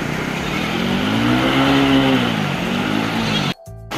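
A motorcycle engine revs up and down steadily during servicing, loud and close, then cuts off abruptly near the end.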